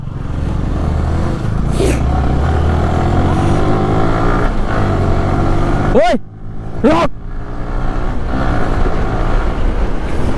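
Motorcycle engine running loud and close as the bike is taken away, a steady throaty drone with a brief dip, under shouting voices.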